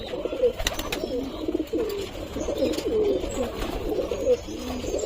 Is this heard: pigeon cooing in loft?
yes